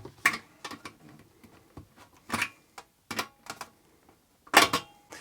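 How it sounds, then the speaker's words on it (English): Cutting away a piece of a VCR case, heard as a few sharp snapping crunches and clicks spaced irregularly across a quiet background, close to the microphone with no talking. "I'm going to cut out a piece here."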